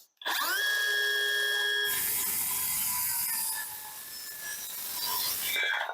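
A power saw bites into a 2x4 wood board, its loud, steady, high whine running continuously for several seconds and shifting in pitch as the blade works through the cut.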